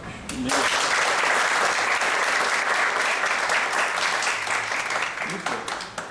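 A burst of enthusiastic applause from a crowd, starting suddenly and sustained loudly for several seconds before tapering slightly.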